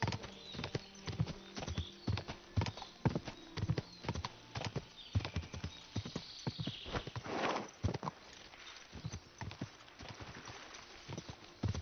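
Horse hooves clip-clop in Kingdom Come Deliverance 2, a run of sharp, fairly close hoofbeats in an uneven walking rhythm throughout, with a soft whinny or snort partway through.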